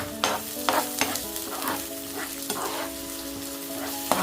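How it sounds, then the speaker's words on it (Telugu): Onions with ginger-garlic paste sizzling in a pan as a cabbage dish is cooked, a steady hiss broken by spoon scrapes and clinks against the pan, close up and without talking. "బాగా పచ్చివాసన పోయేదాకా వేగనియాలి"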